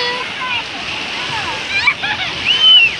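Small children splash in cold sea water at a beach: broadband splashes and surf wash sit under high-pitched children's voices that grow louder toward the end.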